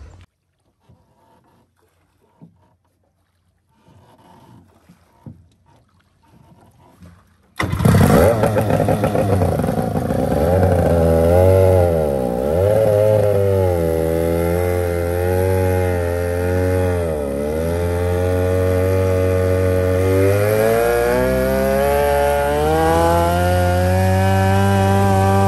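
A Kawasaki 550cc 40 hp two-stroke engine on a 5.7 m composite boat starts after several seconds of near silence with scattered small knocks, then runs loud and steady, its pitch rising and falling repeatedly with throttle changes.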